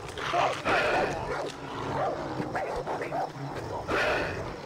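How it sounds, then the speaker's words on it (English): A dog in the Far Cry 3 video game barks and yips repeatedly at a moderate distance, sharp intermittent calls over outdoor game ambience, with a voice muttering faintly underneath. "What is that dog going off about?"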